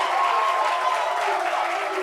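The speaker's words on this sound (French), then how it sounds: "Applaudissements." Studio audience at a French television talk show applauding steadily, a dense, continuous wash of clapping that holds at an even, fairly loud level throughout, with no voices standing out.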